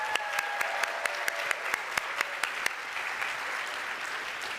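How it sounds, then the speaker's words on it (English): Applause from the audience at a software company's product release event, light and scattered, with a few sharp individual claps standing out over a steady patter before it tapers off. "So big applause to the entire team that made this possible and pushed to get us here."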